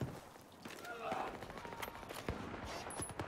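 Rapid automatic gunfire from a first-person shooter video game fired into smoke, with bursts of shots and impacts close and loud, forming dense clattering volleys throughout.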